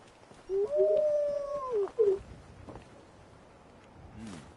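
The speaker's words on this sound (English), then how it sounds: "now there's wild dogs over there" Wild dogs howling in Fallout 4, a single faint, distant, drawn-out howl that rises and falls, followed by a short yelp, with quiet ambient background.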